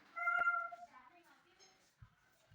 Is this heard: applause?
no